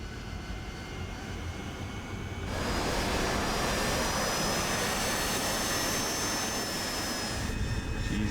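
An AV-8B Harrier jet in the DCS flight simulator spools up for takeoff, a loud steady jet engine roar swelling after a couple of seconds and holding strong with whining high tones, alone without talk.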